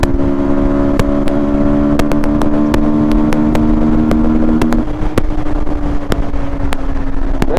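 Yamaha MT15 and R15V4 motorcycles drag racing at night, a loud steady engine drone held at high revs with a gear change partway through, constant and close, no talking.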